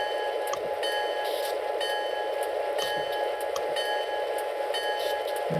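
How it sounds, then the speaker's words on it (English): In Train Simulator 2014, a Southern Pacific diesel locomotive gives off a steady, loud engine drone with faint rhythmic clicking and occasional high metallic rings, like a bell, over it. "I don't know how these have bells that other ones don't, but yes, it's a diesel engine."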